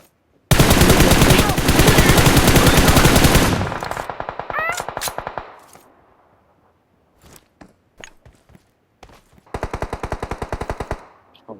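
Gunfire in the video game PUBG: a loud, long burst of rapid automatic fire, then scattered single shots, then another short automatic burst.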